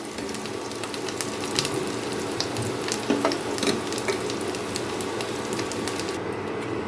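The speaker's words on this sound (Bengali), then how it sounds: "আলুগুলোকে দেখুন আমি একদম লাল লাল করে ভেজে নিয়েছি।" Potatoes deep-frying in oil for vegetarian biryani, a loud, dense bubbling sizzle with frequent crackling pops and occasional utensil scrapes, continuous and close.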